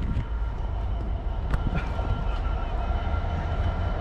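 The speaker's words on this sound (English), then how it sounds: "sneaky train there for the rail enthusiasts" A freight train rolls past on a railway line near a lost river in Manchester, a loud continuous rumble and clatter of wagons with occasional sharp metallic clicks.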